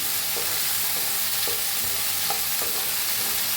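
Peas being stirred into potatoes and eggplant already roasting in a hot pan, a steady sizzle under scraping spoon strokes with a few sharper clicks, no voices.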